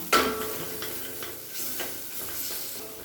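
Chili powder and spices sizzle softly in a hot pan while a spoon stirs and scrapes in short, irregular strokes, close by.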